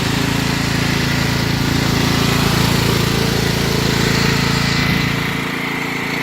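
A Craftsman 42-inch riding lawn mower engine runs loud and steady up close, a constant droning hum that drops slightly toward the end.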